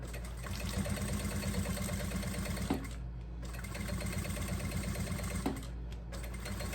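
A sewing machine with its presser foot run close to the edge reinforces a seam on a fabric double wine holder, humming in two steady runs separated by a brief pause.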